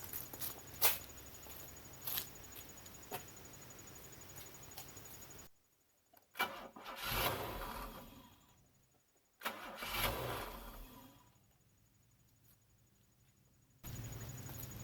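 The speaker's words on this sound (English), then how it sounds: "this is typical starting behavior for a broken auxiliary air valve" Car with Bosch K-Jetronic fuel injection and a broken auxiliary air valve, its engine cranking in two separate attempts. Each is a rough, surging start that fades out, separated by quiet pauses, heard over a low background murmur.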